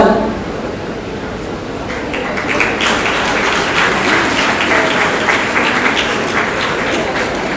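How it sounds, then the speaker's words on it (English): An audience at a college sustainability and social entrepreneurship event applauds as a principal presents a memento, bouquet and shawl, a dense, loud sustained clapping that swells after a couple of seconds and carries on with voices mixed in. "round of applause, people"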